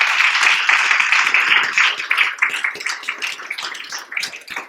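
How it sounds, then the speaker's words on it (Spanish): Congregation applauding during a Spanish-language church service, a dense, steady wash of many hands clapping at close range that thins and turns more scattered toward the end. "Un aplauso a Dios"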